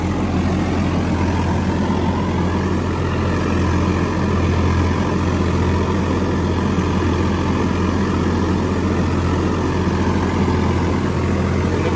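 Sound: Hattat B3080 tractor engine driving in a field

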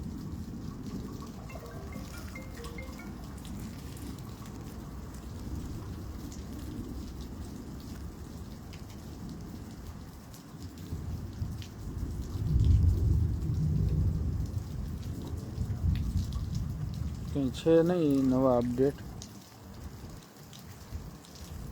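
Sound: rain falling in Halvad

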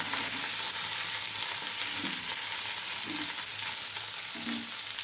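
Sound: potatoes frying and being stirred in a pan

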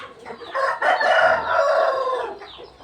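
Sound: rooster crowing

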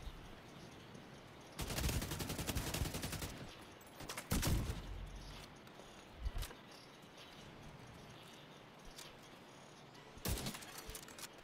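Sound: sniper gunfire in the video game The Division 2

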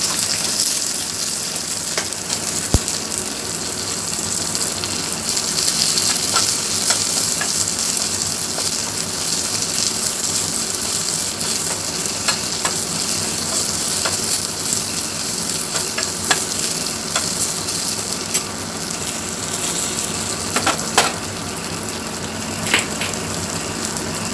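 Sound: onions sautéing in oil in a pan

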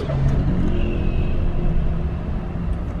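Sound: Suzuki Wagon R Stingray car starting to drive

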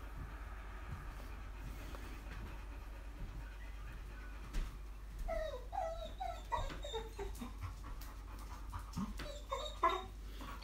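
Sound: old dog panting and whimpering

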